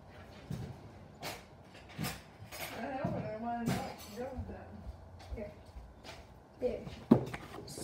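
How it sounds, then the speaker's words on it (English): Metal cutlery clinks and clatters as a butter knife is picked out, a few sharp clinks scattered through the clip at close range, with people talking over them. "I'm getting a butter knife."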